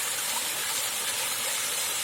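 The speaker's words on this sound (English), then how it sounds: "another angle of the waterfall, which is there in Pragathi Nagar, Hyderabad" A rainy-season waterfall in Pragathi Nagar, Hyderabad gives a continuous, even hiss of rushing water. It is fairly soft and steady throughout the brief stretch, with no voices.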